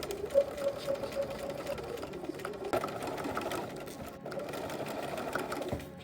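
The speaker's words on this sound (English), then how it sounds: "you'll take this to the sewing machine and you will baste from each end of the leaves" A sewing machine runs steadily for several seconds, basting fabric for a Barbie Swan Lake–style doll dress, with a continuous mechanical whir at moderate level and no talking.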